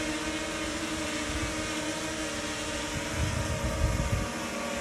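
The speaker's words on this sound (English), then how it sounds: "This is what it sounds like." A DJI Mini 2 drone hovers close by, giving off a steady, even whirring hum with a layered motor whine that holds constant throughout. No one speaks.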